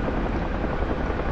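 A helicopter in the DCS flight simulator game gives a steady, dense rotor drone with a constant loud whir and no pauses.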